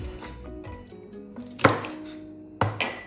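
Green chillies are sliced lengthwise with a knife on a board while making Kerala puliyanam, two sharp chopping knocks standing out over a soft, tonal kitchen background with no talking.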